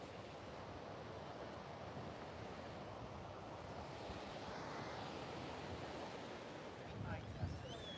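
Ocean surf breaking on the beach during an oceanfront yoga session, a steady, faint wash of waves with wind buffeting the microphone.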